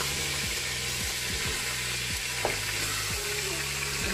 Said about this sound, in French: On va laisser la viande cuire, hein, et fermer la cocotte.